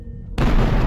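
A photon torpedo fires in an Oculus Rift starship bridge demo game: a sudden, loud, booming blast breaks out of near silence and holds as a sustained roar with a thin, steady high whine riding on top.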